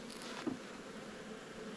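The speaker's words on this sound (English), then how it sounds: "Some bees" Honeybees drone inside an opened beehive box in an Australian apiary, a soft, steady buzzing hum at low volume with a faint brief knock partway through.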